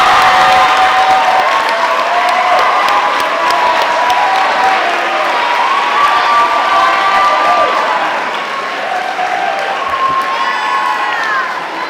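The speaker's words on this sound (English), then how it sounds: "Can we all give a huge clap for Ben Coy?" A large crowd at an awards ceremony bursts into loud, sustained applause mixed with cheering, whoops and high shouts, a dense roar of clapping that holds steady for the whole stretch and eases only slightly near the end.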